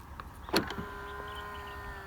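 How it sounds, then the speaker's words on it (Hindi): A Kia Sportage door locks with a brief soft click and thump from the door handle's button, followed by a faint steady electric hum, heard close in a quiet setting. "फिर आप इस सॉफ्ट बटन के थ्रू भी लॉक अनलॉक कर सकते"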